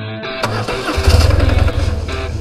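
A BMW 1150 GS motorcycle engine is started up close: a whirring starter crank catches and fires into a loud, rhythmic throbbing idle that settles and continues.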